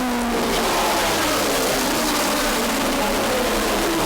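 Race cars in a New England racing event charge through the field, a loud, steady roar of engines running at high revs close by throughout, with no voices.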